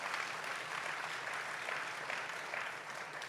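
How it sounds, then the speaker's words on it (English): Audience applause at a 30th-anniversary festival celebration, a dense steady wash of many hands clapping throughout, distant and even. "We should clap for that and celebrate that."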